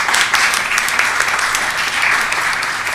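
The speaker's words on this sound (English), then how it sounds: "I think we all owe him an applause" Audience applauding at a school board meeting, a steady dense wash of clapping from many people in a room, loud and continuous for several seconds.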